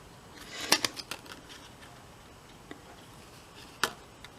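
A paper die-cutting machine cuts shapes, giving a few sharp crisp clicks and snaps, one loud click early and another near the end, with quieter ticks between, close by and quiet.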